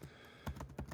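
Keys clatter on a computer keyboard in a few quick, close strokes spread over about a second, with no voices.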